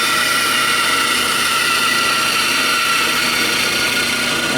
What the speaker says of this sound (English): I'm going to basically rotate the wood along the line, just taking my time, following the line with the bandsaw.